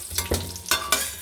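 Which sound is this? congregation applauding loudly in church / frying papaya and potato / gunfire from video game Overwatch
frying papaya and potato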